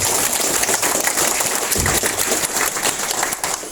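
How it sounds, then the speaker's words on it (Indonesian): A graduation audience at Institut Elkatarie in East Lombok claps steadily for the first graduates, a dense, loud, continuous wash of applause with no talking over it. "Aplaus lah untuk alumni perdana ini."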